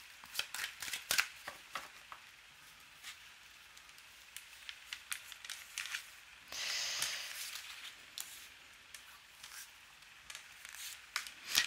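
A deck of playing cards being shuffled by hand, with repeated sharp riffles and soft flutters close up, broken by a few brief pauses, quiet and without any talk.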